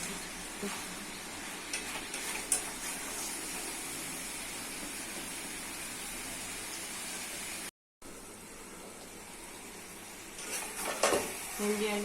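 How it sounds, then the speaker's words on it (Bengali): Chicken curry with okra and potatoes sizzles steadily in a pan while a spoon scrapes and stirs it in occasional bursts, with a short dropout partway through. "দিয়েছি ভেন্ডি আলু দিয়ে ভালো কষিয়ে নিতে হবে"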